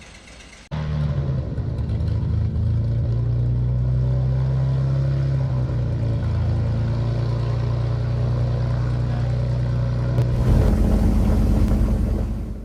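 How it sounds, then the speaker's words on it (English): A Cessna light aircraft at a small airfield starts its engine with a sudden catch, then settles into a loud, steady droning idle nearby, swelling briefly louder near the end. "There's a Cessna right now, starts its engine,"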